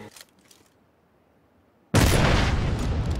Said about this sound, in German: Weil mit der Explosion, ne?